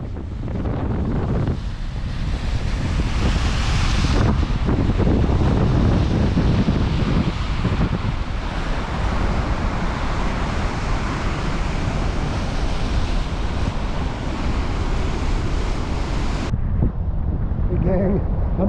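Strong wind buffets the microphone on the exposed Lake Superior shore at sunset, a loud, roaring rush that swells and eases, with waves faintly beneath; the gusting cuts off abruptly near the end.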